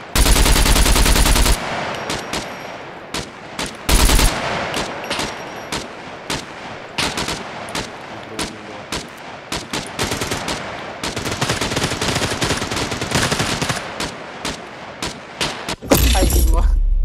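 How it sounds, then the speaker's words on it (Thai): Gunfire from the video game SCUM: loud bursts of automatic fire open and close the stretch, with rapid single shots and sharp cracks between them, and voices talk over the shooting. "ใครยิงวะ ใครยิงวะ"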